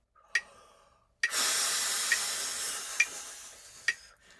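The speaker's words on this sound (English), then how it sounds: "We breathe in 1 beat" A group of clarinet players in a warm-up take a sharp, breathy inhalation together, a sustained airy rush lasting a few seconds, bracketed by brief clicks and light taps.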